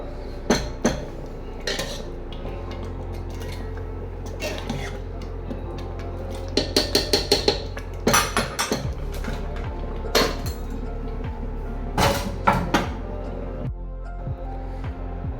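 A metal kadhai set on a stove and handled among utensils makes sharp, close clanks and clinks in irregular bursts, with quieter clatter between.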